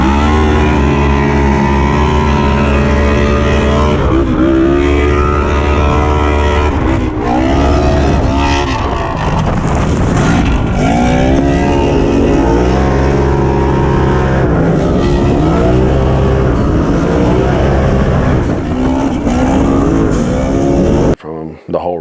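A side-by-side UTV engine roaring and revving hard through a mud race, loud and continuous with changing pitch as the throttle rises and falls, recorded up close on board.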